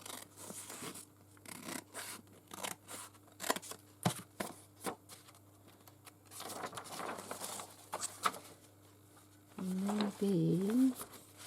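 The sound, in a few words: scissors cutting lace trim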